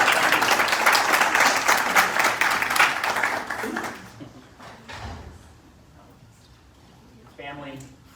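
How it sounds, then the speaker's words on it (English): An audience claps at a police swearing-in ceremony, dense loud applause for about four seconds that fades out into room quiet with a brief shuffle near the end. "Let's give them a round of applause, please."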